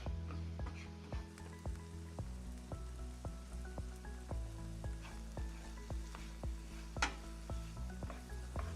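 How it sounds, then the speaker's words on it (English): Oatmeal with apples bubbles and sizzles in a pot, a steady close crackle with intermittent stirring scrapes and soft knocks, no voices. "stir a little bit more frequently just to prevent your oatmeal from burning on the bottom"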